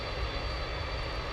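A heavy jet airliner on final approach to DFW airport at night, with a steady, loud, broadband engine roar holding evenly for the whole stretch and no voices.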